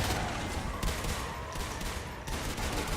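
Gunfire in the Natural Selection 2 video game during a competitive match, with a marine's pistol shots mixed into a dense, continuous fusillade of weapons fire, loud and steady throughout.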